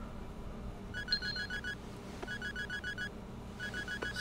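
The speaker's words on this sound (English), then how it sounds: "But we got a phone call here." A phone rings in the video game Sleeping Dogs, with repeated electronic trilling bursts in short evenly spaced groups, fairly quiet against a low background hum and no speech.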